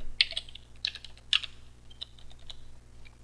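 A password typed on a computer keyboard at a login screen: a few close, crisp keystroke clicks in short irregular bursts, with quiet pauses between them and no talking.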